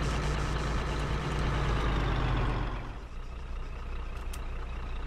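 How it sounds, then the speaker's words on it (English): Military Strider truck engine in the video game Arma 3, a loud steady rumble running at close range, then dropping in level partway through as it idles on more quietly, with no talk. "our loud-ass truck isn't making a bunch of noise all throughout the town"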